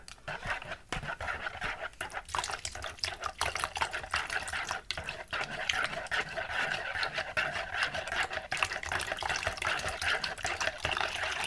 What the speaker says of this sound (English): And we're adding 2 cups of water.